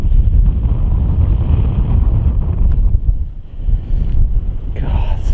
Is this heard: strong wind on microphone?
yes